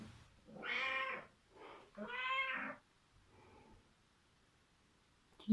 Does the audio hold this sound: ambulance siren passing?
no